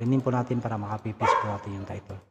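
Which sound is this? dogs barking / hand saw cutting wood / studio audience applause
dogs barking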